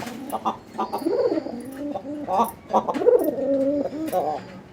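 Coloring Raj-Golla domestic pigeons coo close by in repeated soft, throaty phrases, several calls overlapping at an irregular rhythm.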